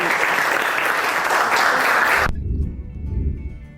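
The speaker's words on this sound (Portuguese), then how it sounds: "Palmas para Daís." A room of people claps at an educational presentation, dense and steady, then cuts off abruptly, leaving faint low rumble and murmur.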